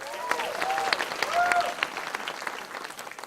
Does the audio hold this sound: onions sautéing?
no